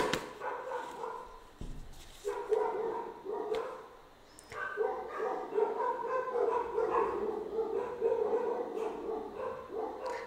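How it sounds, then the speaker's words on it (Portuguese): Several dogs bark repeatedly in an irregular, overlapping chorus, loud and fairly close, with a brief lull partway through. "Quando os cachorros latem..."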